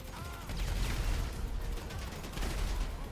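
Rapid gunfire from bullet weapons in a shooter video game, a dense, sustained burst of shots near and loud across the clip, swelling again toward the end with no talk over it.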